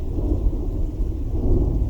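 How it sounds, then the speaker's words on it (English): Low, throaty thunder rumbling continuously and close, a deep steady roll with rain hiss underneath, no voices. "The low, throaty rumble of thunder."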